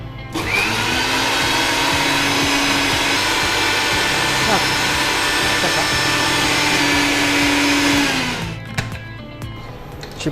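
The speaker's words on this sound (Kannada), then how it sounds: "ಇನ್ನು ಮಿಕ್ಸಿಯಲ್ಲಿ ಹಾಕು." Mixer grinder whirring loudly as it blends a muskmelon milkshake, a steady high motor drone lasting about eight seconds before spinning down.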